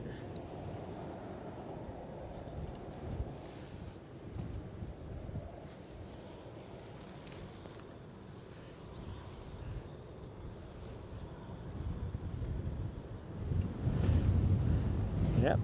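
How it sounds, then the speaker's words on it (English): Wind gusts buffet an outdoor microphone at a scenic plane-spotting spot in Edinburgh, giving a steady low rumble that swells into heavier thumping toward the end. "the wind is starting to create some buffeting now"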